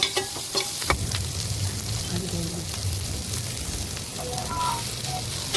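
Chopped shallots sautéing in a hot pan, a steady close sizzle and crackle of frying with a few sharp stirring knocks near the start, continuing alone without talk.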